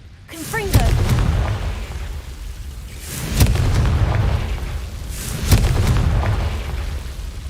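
Three loud booming blasts of the Confringo fire spell in Hogwarts Legacy, spaced about two and a half seconds apart, each one a sharp burst that decays into a rumbling tail.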